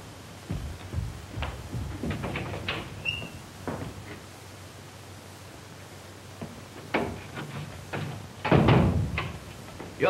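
An indoor door in an office opens and closes, with several creaks, thumps and a latch click spread across the scene, plus a louder bump near the end, heard close and without talk.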